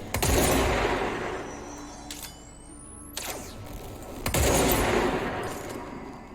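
Weapon fire in the action video game Control: two loud bursts of rapid gunfire, one at the start and one past the middle, separated by a quieter stretch holding a brief mechanical whine.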